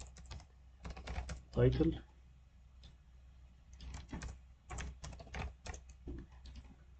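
Computer keyboard typing in short bursts and scattered clicks, close and fairly quiet, with someone talking over it at times.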